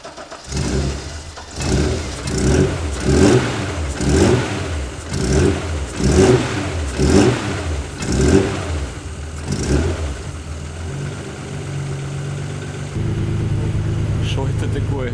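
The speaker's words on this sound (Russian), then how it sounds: "Покажем, как заводится машина." A tuned Daewoo Lanos making about 500 horsepower fires up and revs hard in a series of rhythmic bursts, then drops back to a steady, loud idle, with voices around it.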